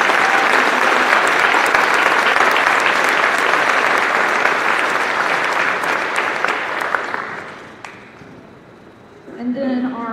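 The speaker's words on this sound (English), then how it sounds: "Would you give our sophomores an applause," Loud, sustained applause from the audience at a high school pops concert, dense and steady for several seconds before fading, after which a voice starts speaking.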